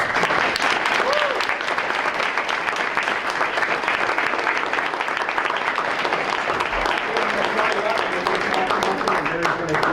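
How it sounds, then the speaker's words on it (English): Sustained applause from an audience at a school board meeting, steady and dense clapping filling the whole stretch without a break. "if we could please have the audience give the board members a great round of applause."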